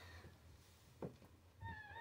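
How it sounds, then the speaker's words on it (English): A pet cat meows softly a few times, brief mewing calls near the middle and end against a quiet indoor fireside background. "I have a mewing kitty."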